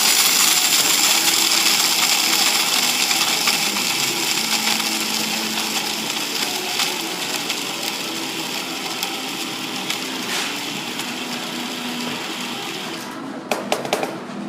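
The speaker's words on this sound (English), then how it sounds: "So everything is in my coffee grinder." An electric coffee grinder blends a batch of ground curry spices, a steady high-pitched whirring hum close by that runs on without pause and tapers slightly before a few rattling knocks near the end.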